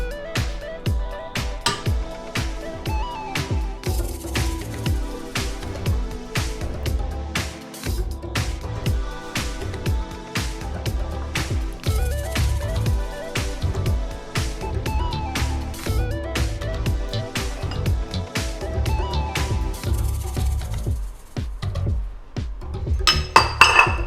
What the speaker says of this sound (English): we're gonna get started by adding our butter, our 2 sugars, and our egg to the mixing bowl